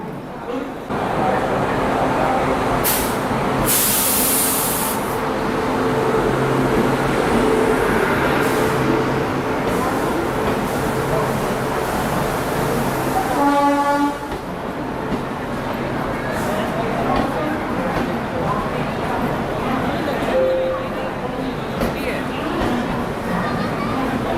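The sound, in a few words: Prayagraj Humsafar Express train pulling into New Delhi station platform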